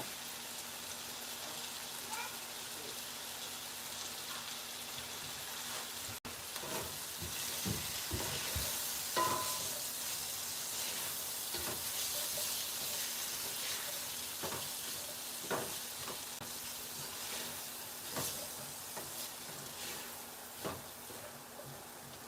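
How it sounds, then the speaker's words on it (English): Chicken gizzard fried rice frying in a pan, a continuous soft sizzle and crackle with scattered sharper pops and stirring clicks, fairly close, no talking. "So we're just gonna like let it fry just for a little bit"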